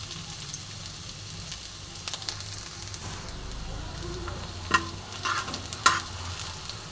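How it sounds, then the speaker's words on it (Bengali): Sliced garlic frying in oil in a pan, stirred now and then, gives a steady close sizzle with a few sharp scraping clacks of the spatula near the end, and nobody speaks. "রসুন আমি লম্বা করে কুচিয়ে রেখেছি এটা পুরোটা আমি দিয়ে দেবো খুব সুন্দর করে ভেজে নেবো"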